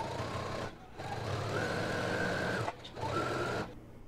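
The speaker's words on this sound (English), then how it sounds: "stitch across the top and then stitch all the way around the outer edges of the pocket" A sewing machine stitches a pant pocket closed, running across the top and around the outer edges, close and steady motor whirring in three bursts split by short pauses.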